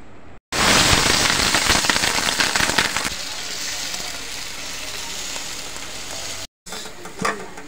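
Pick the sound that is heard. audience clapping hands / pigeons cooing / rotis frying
rotis frying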